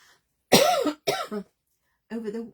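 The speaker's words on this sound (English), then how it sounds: "I developed this cough today for some weird reason" A person coughs several times close to the microphone: a harsh double cough, then a shorter one after a pause.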